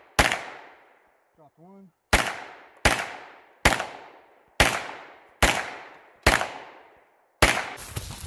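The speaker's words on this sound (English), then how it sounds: "Couple of shots at the wood." Seven loud, sharp gunshots from a Stribog SP9A1 9mm pistol-caliber carbine fired at a wooden target outdoors, spaced roughly one per second with short echoing decays; a brief spoken remark comes between the first and second shots.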